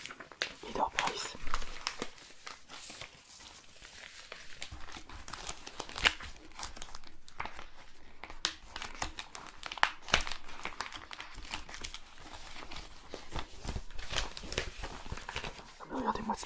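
Paper packaging crumpled and crinkled close to the microphone in a supermarket meat aisle, with irregular crisp rustles and crunches throughout and soft, intermittent whispering over them.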